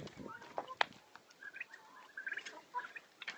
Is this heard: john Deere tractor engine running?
no